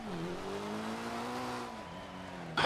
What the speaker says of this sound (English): You're drifting the train!